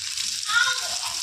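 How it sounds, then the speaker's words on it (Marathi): Mustard seeds, green chili and onion hitting hot oil, a steady bright sizzle that swells briefly in the middle of a short moment, close and continuous, with faint low sounds underneath. "तेल गरम झालेलं आहे आता त्यामध्ये थोडी मोहरी टाकून घेऊया हिरवी मिरची कांदा"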